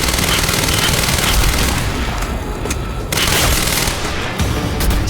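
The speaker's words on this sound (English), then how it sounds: "It takes a lot of SMG shots to put a striker down" Sustained SMG fire in the Quantum Break video game: a dense, loud stream of rapid shots with booming impacts, easing briefly around the middle before picking up again.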